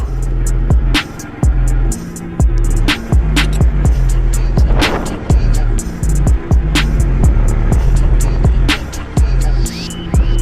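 A Honda XR250 enduro motorcycle rides through a city centre, its single-cylinder engine thrumming loudly and close with repeated gear changes and throttle shifts, while sharp knocks and bumps punctuate the ride.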